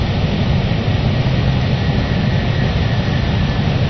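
Steady, loud low-frequency engine drone fills the cabin of a PMDG Boeing 747 in a flight simulator game, a constant airliner hum with no breaks and no talk.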